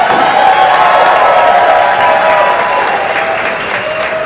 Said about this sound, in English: I want us all to applaud Mr. Gore and his service to our nation